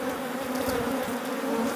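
Honey bees buzz steadily around an open beehive as frames are pulled from a cleared super, a close, continuous insect drone with a few louder passes from bees flying back.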